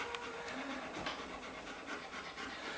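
Adult dogs pant rapidly and steadily up close, a continuous breathy rhythm with no pauses over a few seconds.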